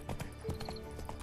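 Horse hooves clip-clop in a quick galloping rhythm in the video game Witcher 3, a run of sharp hoof strikes, fairly faint, with a brief short voice cue at the start.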